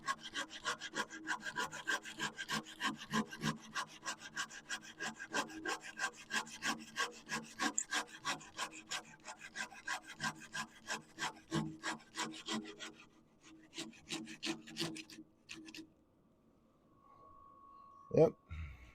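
A woodturning tool cuts over a wooden tenon on a spinning lathe, making rapid, repeated raspy scraping strokes that thin out toward the end and finish in a brief sharp knock.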